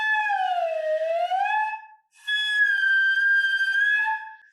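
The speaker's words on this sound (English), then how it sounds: "They can, of course, do the slide whistle." Sliding whistle tones played on a flute head joint, a loud solo pitch that glides down then up, breaks off briefly, then holds a steady high note before sliding again.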